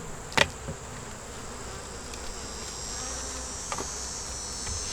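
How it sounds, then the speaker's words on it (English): Honeybees in a nuc hive stirring as the top comes off, a steady close buzzing drone with a sharp knock early on and a couple of faint bumps later, no voices. "Y'all like to see how the bees react when I take the top off"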